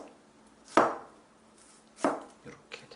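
A knife slices through an onion on a cutting board, making two crisp chops about a second apart, close and distinct, with a few lighter taps afterward and no talking.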